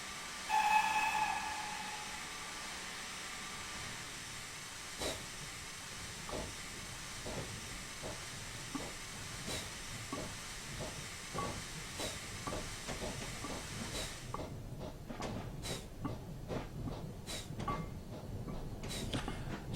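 Steady hiss of steam under a rhythmic series of soft chuffs and clicks from a video game 0-4-0 saddletank steam locomotive slowly working, growing more distinct toward the end.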